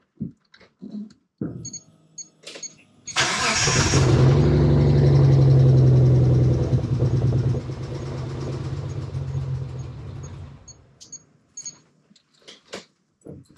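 A 1992 Dodge Stealth R/T twin turbo, low on fuel, cranks with a few clicks, then fires into a loud, close idle that drops to a steadier, softer rumble before shutting off, with a few scattered clicks afterward.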